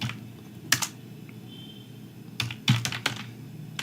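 Short bursts of keystrokes on a computer keyboard while writing a sentence, light clicky taps in small clusters separated by quiet pauses, close and moderately soft.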